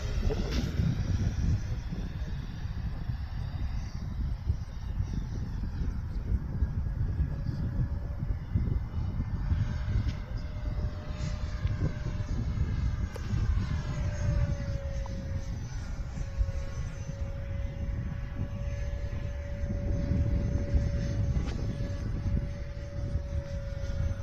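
An FMS Futura 64mm electric ducted fan RC jet flies past a runway with a steady, loud turbine-like whine and rushing roar, a high tone sliding down as it passes, continuous for the whole stretch with no talking.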